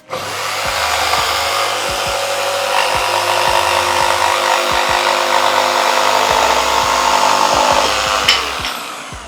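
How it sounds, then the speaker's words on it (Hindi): An electric jigsaw cuts through wood with a loud, continuous buzzing whine close by, its blade rasping steadily for the whole stretch. "अब मैं इसमें आपको कटिंग करने से पहले मैं आपको जिक्सो से कटिंग करके दिखाता हूँ"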